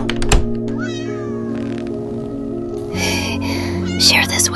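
A small kitten mews in several short, high calls over a steady synthetic techno beat, with a brief thump near the start.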